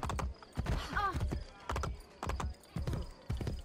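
Hooves clip-clop in an even, repeating rhythm, moderately close, with a brief horse whinny early on and faint background ambience, in the video game Assassin's Creed: Brotherhood.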